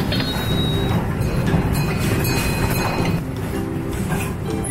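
A tourist park train at Waduk Cengklik Park in Boyolali rumbles steadily along, with continuous rolling noise, faint squeals and mechanical clatter heard from on board.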